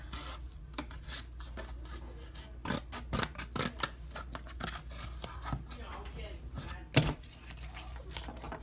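Scissors cut out a traced paper piece for a homemade solar eclipse pinhole viewing box, giving close, irregular snips and rustling paper scrapes with a sharper cut near the end.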